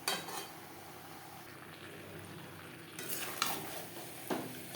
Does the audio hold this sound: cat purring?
no